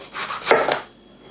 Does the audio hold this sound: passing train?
no